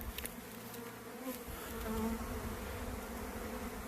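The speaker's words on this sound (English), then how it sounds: "It's a big tornado of bees here." A swarm of bees whirling in a tornado-like cloud, a steady dense buzz filling the air, fairly quiet and continuous with no voices.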